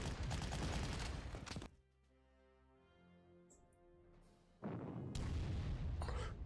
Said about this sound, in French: Ils sont couverts par leur maudit artillerie là.